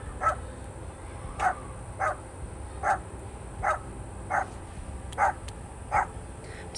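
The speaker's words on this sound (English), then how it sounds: "So sorry for the dog barking in the background." A dog barks in the background, about eight evenly spaced single barks roughly one per second, moderately distant and fairly faint over a low indoor hum, with no talking.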